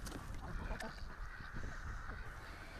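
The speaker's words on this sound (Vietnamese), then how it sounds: "Phía trên là bầy vịt trắng bơi lội" A flock of white Grimo laying ducks quacking on a fish pond in Lam Dong, a dense, continuous chorus of overlapping calls heard at a moderate distance, fairly faint, with no talking.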